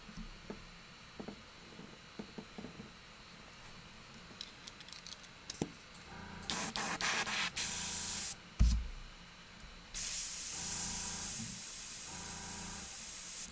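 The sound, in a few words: airbrush spraying while cleaning exposed needle tip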